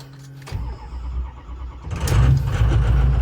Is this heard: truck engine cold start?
yes